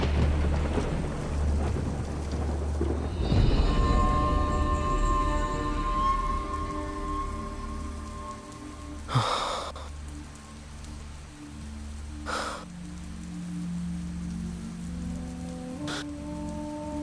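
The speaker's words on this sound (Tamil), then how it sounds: "இன்னைக்கு நாள் பூரா மழை பெய்ய போகுது." Heavy rain pours steadily in the mountains of the Sierra Nevada del Cocuy, with distant thunder rumbling and a few sharp cracks standing out over the constant downpour; low tonal hum underneath.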